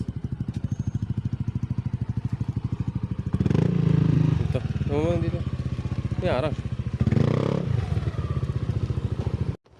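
A motorcycle engine test-run at a home service repair, running steadily close by with periodic revving bursts, while people talk over it.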